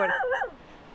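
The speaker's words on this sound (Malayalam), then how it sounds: "അവിടെ ഏതോ ഡോഗ് വന്നിട്ടുണ്ട് കേട്ടോ." A single short dog yelp or whimpering bark sounds near a tent in a cold Himalayan valley camp in Ladakh, brief and moderately close against a quiet background.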